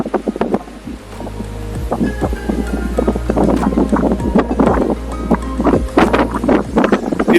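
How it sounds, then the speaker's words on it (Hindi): Strong wind blows across a bridge with an iron foundation and wooden deck over the Chandra river, buffeting the microphone in gusty, close rumbles with sharp bumps. "कितनी बढ़िया हवा चल रही है।"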